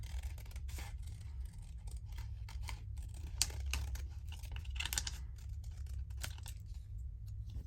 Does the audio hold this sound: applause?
no